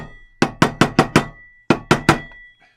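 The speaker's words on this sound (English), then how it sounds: "You can hear when you hammer this like this" A hammer drives a bearing into a lawn mower wheel with sharp metallic strikes, a quick run of five blows, a short pause, then three more, each loud and close with a brief ringing decay.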